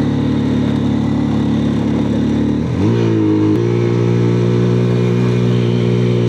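A motorcycle engine revs hard at 7000 RPM in first gear while climbing a turn, a loud steady mid-pitched drone that dips briefly, then settles into a higher, sustained whine close by.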